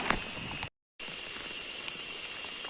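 Outdoor rainfall during squirrel trapping, a constant soft patter of drops hitting surfaces, interrupted by a short dropout of silence before the shower resumes evenly.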